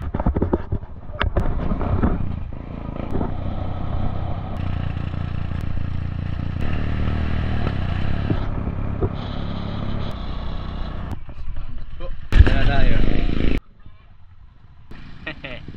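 Motorcycle riding downhill in Cebu, Philippines, a steady rumbling engine mixed with heavy wind buffeting on the microphone, with brief voices now and then and a louder gust of rushing air near the end.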